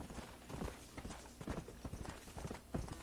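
Horses' hooves clip-clop in the Red Dead Redemption video game, an irregular series of close, hollow knocks from a couple of horses walking.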